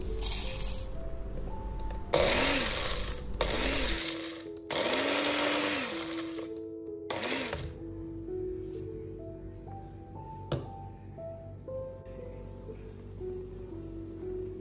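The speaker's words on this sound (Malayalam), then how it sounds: "ഇനി ഇത് പൊടിച്ചിട്ടൊന്ന് മാറ്റി വെക്കാം." Mixer grinder powdering roasted fenugreek, mustard, fennel, cumin and dried chillies in a home kitchen, running in several loud whirring bursts with brief pauses between them, then quieter rattling and clinks as it is handled, with no talk.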